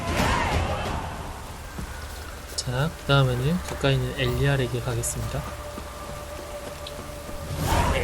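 Steady rain falls in a fantasy role-playing game, a soft continuous patter running under someone speaking Korean and in-game character dialogue throughout.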